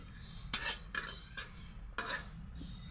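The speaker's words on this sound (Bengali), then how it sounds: "তো খালি কড়াইয়ের মধ্যেই আমি সর্ষে দিয়ে ভালোভাবে গ্যাসের ফ্লেমটা একদম স্লো করে রেখে ভেজে নিচ্ছি" Mustard seeds dry-roasting in an empty wok over a low gas flame, heard as a few distinct scraping, clinking stirs against the metal with quiet gaps between them.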